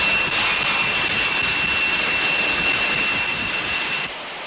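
Steady, loud fighter attack jet engine roar with a high whine on top, holding constant before dropping slightly at the end, at the Farnborough Airshow 2002.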